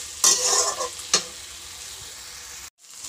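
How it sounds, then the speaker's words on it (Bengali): Oil-fried potato and soybean chunks stirred with spices in a pan, a burst of sizzling and a couple of scraping strokes, then a softer steady fry that briefly cuts out near the end. "আর আলু এটা আমি দিয়ে দেব, দিয়ে নাড়াচাড়া করে নেব"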